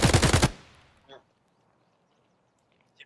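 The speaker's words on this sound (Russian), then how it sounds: "Ай, блядь, кто по мне стреляет?" Rapid automatic gunfire in the game Escape from Tarkov, a loud close burst lasting about half a second that tails off, followed by a brief faint sound and near silence.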